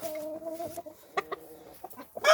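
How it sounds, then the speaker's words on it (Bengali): A large tiger-breed rooster at a village livestock market clucking in a string of short, close, moderately loud calls against a quiet background. "অনেক বড় একটা মোরগ, অরিজিনাল টাইগার মোরগ এটা"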